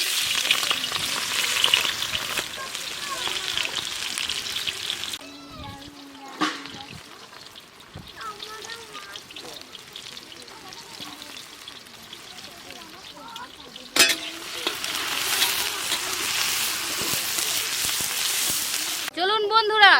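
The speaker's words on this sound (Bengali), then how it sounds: "মাংসটা কষানোর জন্য তেলটা দিয়ে দিচ্ছি। পেঁয়াজটা এবার দিয়ে দিচ্ছি।" Onions sizzle in hot oil in a pan for a village-style chicken curry with jackfruit, with a loud continuous frying hiss, a quieter stretch when stirred, then a strong sizzle again, and a voice speaking over it.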